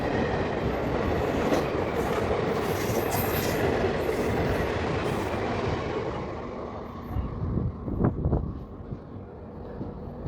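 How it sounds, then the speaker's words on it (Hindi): The Gaya Patna Bhabua Express running on rails, a loud continuous rushing roar of wheels and carriages that eases off toward the end, where a few sharper clanks and knocks come through. "ये है गया पटना भभुआ एक्सप्रेस।"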